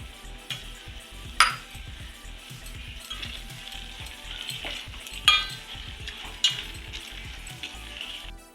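Semolina roasting in ghee with sugar added for rava kesari, stirred in a pan: soft continuous frying sizzle with repeated spoon scrapes and a few sharper clinks against the metal, close and alone.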